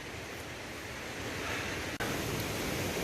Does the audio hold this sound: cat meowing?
no